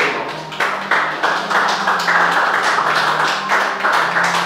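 Church congregation claps in praise as people sit down, a close, fairly loud wash of hand claps with a loose rhythmic pulse running throughout, no talk over it.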